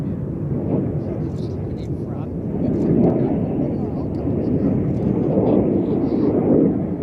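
Red Arrows jet aircraft performing a flying display at Sywell Air Show, a broad continuous roar that swells and fades as jets pass, with commentary voices over it.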